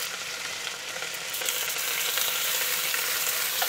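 About 1.5 pounds of chuck steak browns in a pot for a stew, giving a continuous hissing sizzle that builds slightly partway through, heard up close with nobody speaking.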